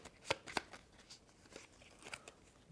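Board game pieces from Stellarion shuffled by hand, a few sharp clicking clacks near the start followed by softer scattered rattles and taps, close and fairly quiet, with no talk.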